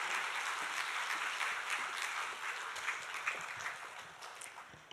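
A church congregation at an early-morning special prayer service applauds to welcome a guest speaker coming forward, a broad, sustained wash of clapping that gradually thins out toward the end.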